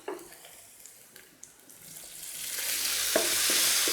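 Powdered spices — turmeric, black pepper and coriander powder with crushed coriander seed and cumin — frying with a spoonful of water in a pot, a soft sizzle and stirring that swells into a louder hiss toward the end, with no talk.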